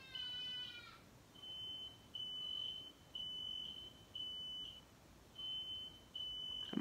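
Household smoke alarm set off by cooking, sounding a run of high electronic beeps in regular pulses of about half a second, fairly faint and a little distant in an otherwise quiet room.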